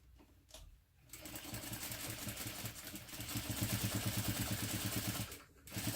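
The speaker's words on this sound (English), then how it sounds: "now I'm going to top stitch them both through the bottom panel at a 1/8 inch seam allowance" Sewing machine top stitching through a bottom panel at a 1/8 inch seam allowance with a lengthened stitch, a fast steady mechanical chatter running for several seconds after a brief pause.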